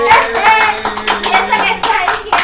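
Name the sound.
audience applause for Edward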